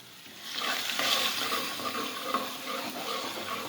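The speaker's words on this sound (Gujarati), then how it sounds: "હવે થોડી વાર સાતળી લઈશું." Ginger sautéing in a pan with tomatoes for urad dal, a steady soft sizzle with stirring scrapes throughout, close and moderately loud, no talking.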